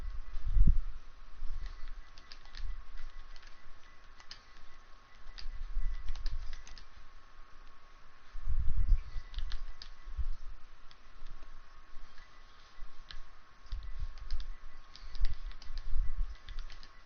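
Soft, steady typing on a computer keyboard, with quick irregular key taps and occasional heavier thumps running throughout, fairly close and with no talking.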